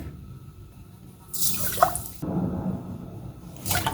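Water poured into a cup to make sugar syrup for motichoor laddoo: a short splashing pour in the middle, then a quieter trickle and a brief second splash at the end, close to the mic.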